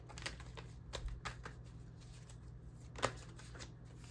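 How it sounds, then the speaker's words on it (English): Tarot cards are shuffled by hand in a quiet room, a run of soft riffling flicks and light taps with a sharper slap about three seconds in, close and fairly faint. "Let's keep shuffling."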